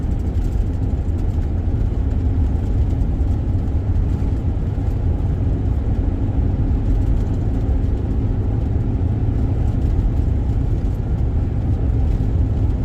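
Steady low engine and road rumble from a car on the road at night, with another vehicle close behind, a continuous even drone with no talk.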